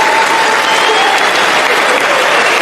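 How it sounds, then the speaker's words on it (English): Steady applause and crowd noise fill a stadium at an athletics championship semi-final, a loud continuous wash of clapping and cheering throughout. "There's a bit of crowd noise going on."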